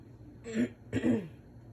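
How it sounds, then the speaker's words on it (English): A person clears their throat twice in quick succession, close and fairly soft, with no talking. "I feel like I have to clear my throat a lot"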